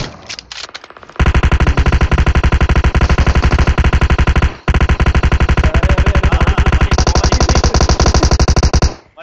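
Sustained automatic M249 machine gun fire in a video game, a loud rapid stream of shots after a few brief opening bursts, with one short pause midway before the firing resumes and runs nearly to the end.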